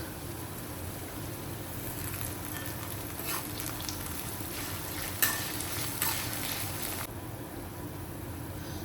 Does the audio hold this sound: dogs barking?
no